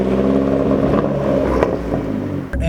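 A 2013 Fiat 500 Abarth with a manual gearbox cruises steadily along a park road, its engine giving a constant close-up hum with a slight rumble, heard from inside the car without talk.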